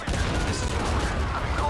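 Dense, loud gunfire in Shadow of the Tomb Raider, a rapid rattling fusillade of close shots that continues without pause, up front in the mix.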